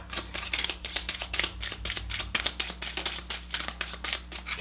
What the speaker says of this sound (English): I will just cut the deck.